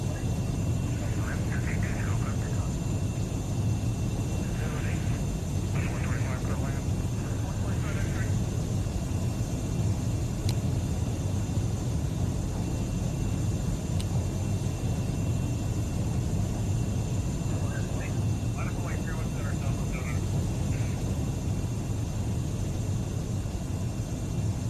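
A steady, broad engine drone from a small airplane climbing over the Australian outback in the World Flight VR game, continuous and even throughout, with faint voice-like bursts now and then.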